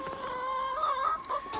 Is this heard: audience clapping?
no